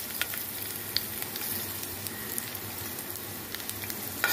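Garlic frying in a pan, a steady close sizzle with faint crackles and occasional stirring clicks, quiet and continuous with no voices.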